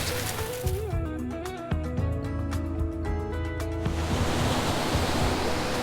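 Surf on a sandy beach washes in as a steady broad roar, with a brief tonal rattling sound over it before the wash takes over alone.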